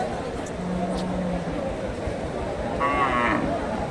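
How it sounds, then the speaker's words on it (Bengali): A local bull lets out a short low moo at a busy cattle market, heard against a steady murmur of crowd chatter and nearby voices. "এখানে একটা দেশি সার গরু"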